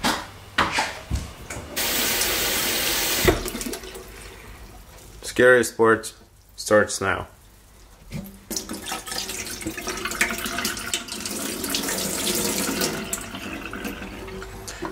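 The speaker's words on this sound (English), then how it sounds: "we're going to soak the film in the running water for 1 minute or a bit more" Tap water runs into a kitchen sink to rinse black and white film during home developing, a hissing stream with bursts and splashes as the flow changes, while a person speaks briefly over it.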